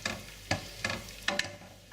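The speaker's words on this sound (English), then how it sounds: "Give that a little stir, just to bring out some of the flavours." Boiling vinegar spiced with mustard seeds, coriander and chillies is stirred in a pan for pickled onions, with a bubbling sizzle broken by several scraping strokes and knocks at irregular intervals.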